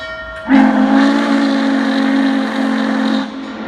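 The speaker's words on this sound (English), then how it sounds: "I'm not a huge fan of this whistle." An MTH model of the Norfolk & Western J-class 611 steam locomotive, Spirit of Roanoke, sounds its whistle in one steady, loud, chord-like blast lasting a few seconds, then cuts off.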